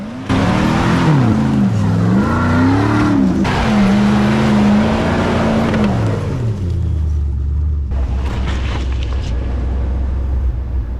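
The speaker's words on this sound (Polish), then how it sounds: "wjeżdża jeep." A jeep engine roars at full power, revving up and down as it climbs, loud and close, then settles into a steady lower drone.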